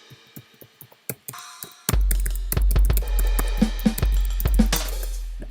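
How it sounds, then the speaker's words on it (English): A basic drum kit triggered from a MIDI keyboard: a few sparse hits, then a steady pattern of deep kicks, snares and hi-hats loops loudly and evenly to the end. "So that I'm pressing that on the keyboard."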